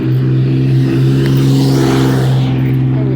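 A car engine hums steadily on the road, a sustained mid-pitched drone with a slight swell as it passes, loud and close with no talk.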